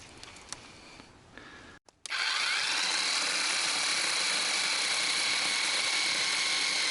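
A cheap Chinese electric saw cutting wood: a quiet stretch, then the motor starts abruptly into a loud, steady, high-pitched whine that holds without a break, close by and with no voices.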